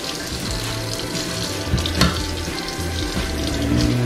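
Green beans being washed under a running kitchen tap, with a steady rush of water splashing into the sink throughout and no speech.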